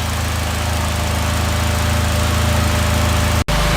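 A turbo Mitsubishi Lancer engine runs steadily with a low, droning exhaust note, close and continuous, cut off by a brief dropout near the end.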